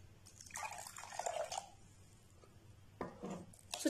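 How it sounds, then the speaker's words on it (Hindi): Water trickling and splashing into a bowl of semolina being soaked for rawa dosa batter, a short pour followed by a pause and a second brief splash, moderately quiet and close. "अब हम इसमें थोड़ा थोड़ा पानी डालेंगे।"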